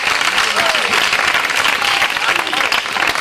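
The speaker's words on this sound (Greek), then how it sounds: "ένα πιο μεγάλο χειροκρότημα ακόμα για αυτόν" Sustained, loud audience applause fills the whole stretch, steady dense clapping from a crowd with a few faint voices mixed in.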